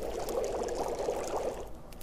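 Water pouring into a pot to be boiled in The Long Dark, a steady liquid stream running for about two seconds at moderate level, tapering slightly near the end, with no talk over it.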